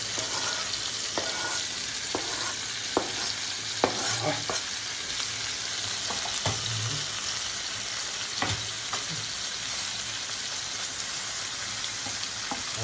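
Plenty of onion fries in a pan with a constant close hiss, punctuated by frequent scraping stirs and soft clinks of a spatula at uneven intervals; no one speaks.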